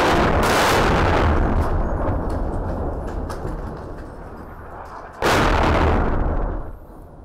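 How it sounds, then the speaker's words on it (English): Two explosions in Sudan: a heavy roaring blast that slowly rumbles away, then a second sudden loud boom a few seconds later, both deep and sustained. "Two explosions caught on live television as a proposed ceasefire failed to take hold in Sudan."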